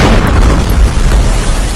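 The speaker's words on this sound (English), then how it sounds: "This guy was shooting a selfie video when a missile struck." A missile explosion booms loudly and close, followed by a sustained low rumble as debris continues to fall.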